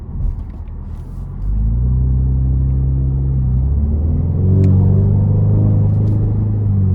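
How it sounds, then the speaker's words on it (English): A 2024 Ford Mustang EcoBoost convertible with a 2.3-liter turbocharged four-cylinder pulls away on the road, its engine droning loud and close, the pitch climbing through the gears before settling into a steady cruising hum. "let's go ahead and take this 2024 Mustang Convertible with the EcoBoost engine out on the road for a test drive"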